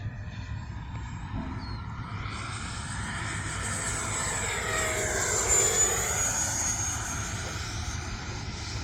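An E-flite 80mm F-16 model jet with an electric ducted fan flies past, a steady whooshing whine that swells and shifts in pitch as it passes, loud and continuous throughout with no talking.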